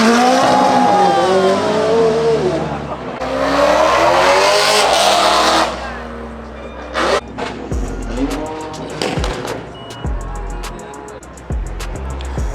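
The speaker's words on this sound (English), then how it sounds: "That Mustang sound beautiful." A Ford Mustang at a street drifting meet revs loudly up close with rising and falling engine pitch, followed by sharp bursts of throttle and popping, with crowd noise around it.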